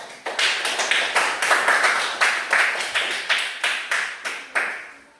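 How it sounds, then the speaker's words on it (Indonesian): A class of schoolchildren claps in unison for a pupil, roughly a dozen sharp, loud group claps in a steady rhythmic pattern that slows slightly toward the end. "Tepuk tangan dulu untuk Josia."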